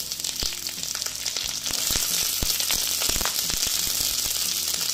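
Carrots and cauliflower hit a hot tempering of spices in oil for dalia khichdi, giving a loud, steady sizzle with sharp crackles and pops that grows denser partway through, close to the pan with no voices.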